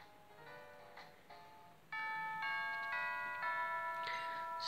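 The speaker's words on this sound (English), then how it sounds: "That's school bell." A school bell chime in the Pokemon Moon video game rings out as a melodic sequence of sustained electronic tones, growing louder partway through and holding steady to the end.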